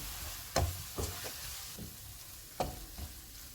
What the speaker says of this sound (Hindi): इनको 2 मिनट तक भूनेंगे।